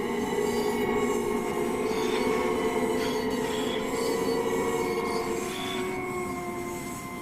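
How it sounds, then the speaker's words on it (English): Long Island Rail Road train departing in Train Sim World 4, a steady rolling rumble with humming tonal lines and faint wheel squeal, fairly loud and continuous, slowly easing as it moves away. "Say goodbye to our train as it continues on without us."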